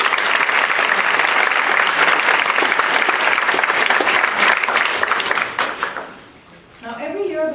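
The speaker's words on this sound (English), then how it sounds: "So, a round of applause." Sustained audience applause fills a hall at a Women and Gender Studies commencement ceremony and fades out near the end, after which a speaker begins talking.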